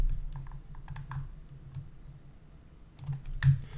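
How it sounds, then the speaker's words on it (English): Computer keyboard typing in a quiet room: scattered light key clicks, a few at a time with pauses, then a quick cluster near the end, close and soft. "Select the text tool. I'm going to type in Adobe Easy."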